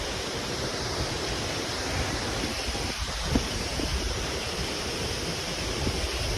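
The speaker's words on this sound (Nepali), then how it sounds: "यस्तो हावाले बब्बाल चलिरहेछ मा" Strong wind blows hard near a waterfall, a loud, dense, unbroken roar of rushing air buffeting the microphone, steady for several seconds with no voices.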